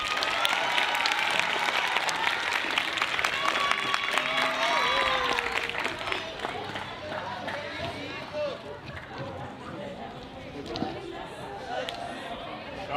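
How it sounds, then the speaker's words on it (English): Grade 7 primary school pupils at a valedictory ceremony give a sustained round of applause, dense clapping that is loud at first and then gradually thins out, with crowd chatter mixed in. "grade 7. You can give yourself a round of applause."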